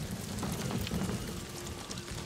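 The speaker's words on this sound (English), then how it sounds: "I like the rain" Steady rain falling in the video game Ghost of Tsushima, a dense, even hiss of drops pattering on surfaces that holds at a constant moderate level throughout, with no voices.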